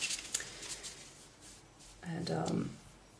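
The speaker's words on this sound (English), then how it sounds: "I started shuffling with looking at the cards on the table" A deck of tarot cards being shuffled on a table, with soft riffling and light papery flicks, close and quiet, ending in a fuller burst of shuffling.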